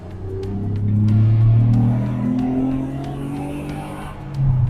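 A Sabre-tuned Ford Cougar with a custom twin-exit 2.5-inch exhaust, its engine revving loud and close in a rising and falling roar that swells again at the end.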